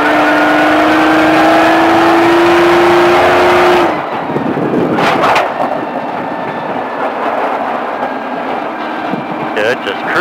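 An exotic sports car's engine revs loudly and climbs in pitch on a racetrack at Speed Vegas, then drops to a rougher, lower drone, with people talking over it.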